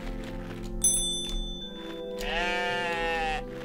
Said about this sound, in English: Are these goats, sheep? Oh no, far out, no. They're rams.